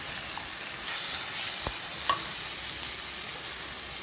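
Tomatoes sauté in a pan for mutton head kuzhambu with a steady, close sizzle and faint frying crackle, broken by a few brief clicks of a stirring spoon against the pan, with no talk.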